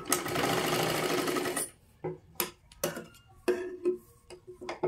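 A sewing machine stitches a katori blouse in one loud, steady run, then stops and gives a few short, separate bursts of stitching with clicks in between.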